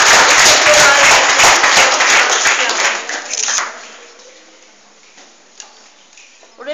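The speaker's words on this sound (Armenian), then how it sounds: "խնդրում եմ ծափահարեք" Applause at an awards and certificates ceremony: a loud, dense wash of clapping that fades out after a few seconds, leaving quiet room sound with a few faint stray noises.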